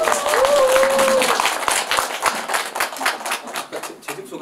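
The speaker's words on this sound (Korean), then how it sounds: "다시 한번 박수 부탁드리겠습니다." Dense clapping from a crowd fills the room, strong at first and gradually thinning out, with a brief whistle-like tone near the start.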